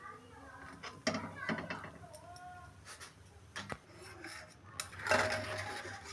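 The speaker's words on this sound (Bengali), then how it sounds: "ধারগুলো আমি আস্তে আস্তে চামচ দিয়ে একটু তুলে দিচ্ছি, যাতে উল্টাতে এটা উঠে আসে।" A metal spoon scrapes and lifts the edges of a steamed egg roll in a pan, giving several short irregular clinks and scrapes. A few are sharper, and a faint voice talks underneath.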